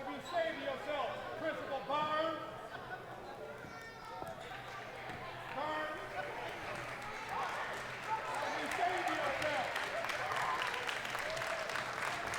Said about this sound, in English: She receives a warm round of applause.